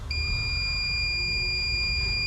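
The electronics of a 2019 Ram 1500 pickup truck give a sustained electronic beep tone as they power on, a loud, steady, piercing pitch lasting a couple of seconds over a low hum.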